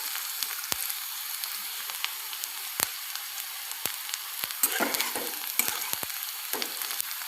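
Onions sautéing in a pan for kande poha give a soft steady sizzle punctuated by sharp clicks of a spoon against the pan and a few louder stirring scrapes, no talk.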